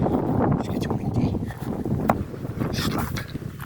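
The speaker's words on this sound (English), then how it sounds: "It's getting windy." Gusty wind buffets the microphone in rough, uneven bursts, with faint rustling and a few small knocks mixed in.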